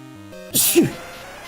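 A single sharp sneeze bursts out after a brief stretch of talking, loud and close, with a quick breathy intake leading into it.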